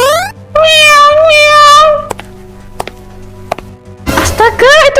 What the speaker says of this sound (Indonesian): Pergi sana, dasar kucing sialan.